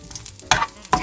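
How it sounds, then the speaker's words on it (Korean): Fish cake being stir-fried in a pan, with two sharp bursts of sizzling and scraping as it is tossed, between quieter clatter. "잘 볶아주세요."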